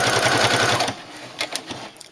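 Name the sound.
sewing machine stitching bias binding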